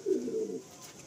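A single soft, low coo from a pigeon in a breeding loft, brief and close, fading into quiet.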